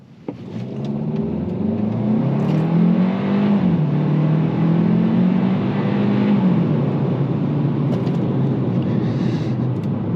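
A 2024 Hyundai Kona accelerates in normal drive mode, its engine droning and revving continuously from inside the cabin, pitch climbing gradually, dipping at a shift, then rising again, loud and steady with no talk.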